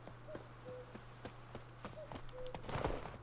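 Roach the horse's hooves clip-clop at a steady walking pace in The Witcher 3: Wild Hunt. The hoofbeats sound faint and regular over a low constant hum.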